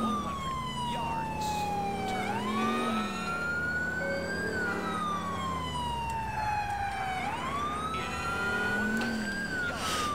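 Police sirens wail continuously in GTA IV, several overlapping siren tones sweeping up and down loudly and close, with engine and traffic noise beneath and a voice talking briefly over them.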